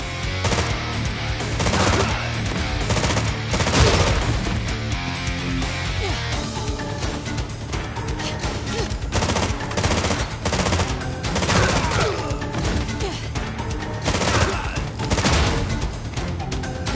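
Rapid automatic gunfire from an upgraded weapon in the video game Terminator 2D: No Fate, sustained bursts over dense, loud game music and explosions throughout.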